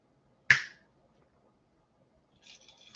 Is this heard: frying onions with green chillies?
no